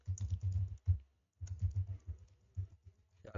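Typing on a computer keyboard while setting up a project in Android Studio: close, quick bursts of key clicks with brief pauses between, no voice.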